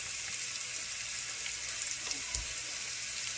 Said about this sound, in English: So we got a nice little sizzle going.